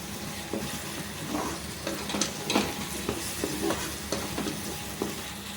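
Golden onions and green chillies sauté in a pan for ridge gourd kootu. A steady frying hiss carries a series of scraping, clinking spatula strokes at an irregular pace.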